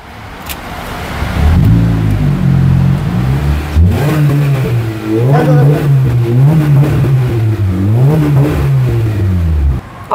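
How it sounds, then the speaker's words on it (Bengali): A used sports car engine revs up and down repeatedly, loud and close, its pitch climbing and falling in waves over a steady idle. "আপনারা চাইলে একটু ইঞ্জিনের সাউন্ডও শুনতে পারেন"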